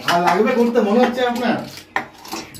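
A dal masher scrapes and knocks around a pot of cooked rice, with irregular dull clatter running under a voice talking throughout and a sharper knock near the end.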